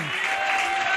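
A short burst of crowd applause in a church congregation, many hands clapping steadily at a fairly even level, with a faint voice briefly audible at the start.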